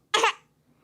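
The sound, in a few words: coughing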